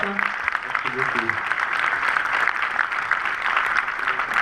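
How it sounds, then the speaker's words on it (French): Audience applause at the closing gala of the FIFPL 2015 festival, a steady wash of clapping running for several seconds, with voices talking over it near the start. "on peut encore les applaudir"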